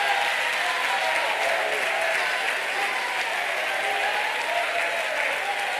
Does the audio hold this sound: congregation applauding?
yes